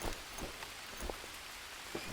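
Rain falls in the rainforest of the survival video game Green Hell, a steady soft patter of drops on surfaces with a few louder close hits, alone without talk.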